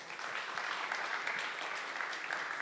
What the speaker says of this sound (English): So I think a very warm applause also for you, for your insights.